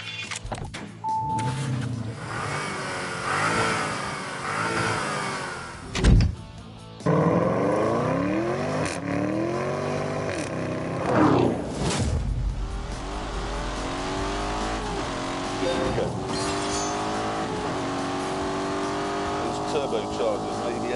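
A Lamborghini Urus in The Grand Tour Game climbs a hill, its turbocharged engine revving and rising through the gears, loud and close, while someone talks over it.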